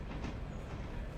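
Passenger train in the Railroader game rolls along with a steady low rumble and faint rail clatter, continuous and moderately distant.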